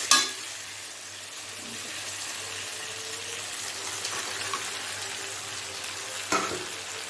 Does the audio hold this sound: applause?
no